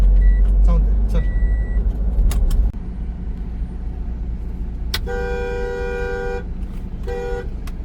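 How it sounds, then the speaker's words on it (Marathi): Road traffic jam near Shilphata: idling engines rumble throughout, with a loud car horn blaring for over a second and a shorter honk after it, and several brief toots earlier, all under steady people talking. "त्या एका ट्रकमुळे इतकं ट्रॅफिक जॅम झालं होतं"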